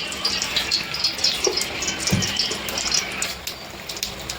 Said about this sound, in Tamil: எண்ணெய் ஊற்றிக்கலாம்